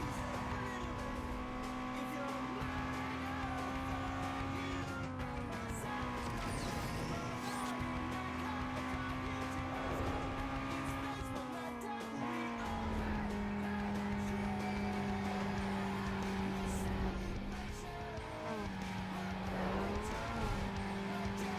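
A Honda VTEC engine revs in Need for Speed Underground 2, holding a steady sustained drone that shifts pitch with each gear change, alongside tire squeal and racing noise, close and loud throughout with faint talk beneath.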